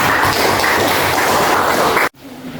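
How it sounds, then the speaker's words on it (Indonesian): A classroom group applauds together for the first student group, dense steady clapping for about two seconds that cuts off abruptly into near silence. "Kita kasih tepuk tangan dulu untuk kelompok 1."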